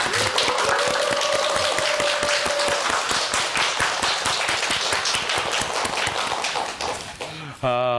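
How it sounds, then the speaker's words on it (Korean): A studio audience on a morning TV program applauds to welcome a professor for a lecture, loud rapid clapping filling the room with a sustained tone underneath, ending with a voice at the close. "박수로 청합니다."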